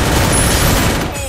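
Gunfire in a Free Fire style shooter game, a dense, loud burst of rapid shots heard up close.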